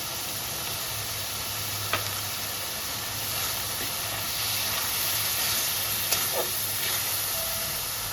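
Water poured into spices frying for a Bengali pointed gourd and prawn curry, a steady loud sizzling hiss that carries on throughout, with a couple of faint clicks of a utensil against the pan, no voices.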